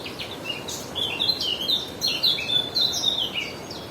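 A small bird sings a rapid run of high chirps and trills over a low, steady background hiss outdoors.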